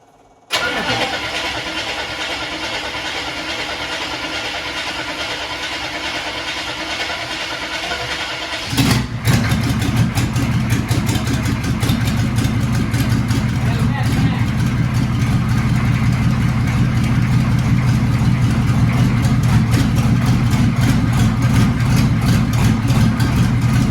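Car engine after a fuel pump repair: a starter cranks for several seconds, then the engine catches and settles into a steady, loud, rumbling idle that continues to the end, no voices over it.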